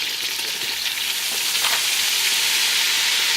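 Butter melts in a pan for mac and cheese, a steady close sizzle with bright frying hiss that runs unbroken from start to finish, no voices over it.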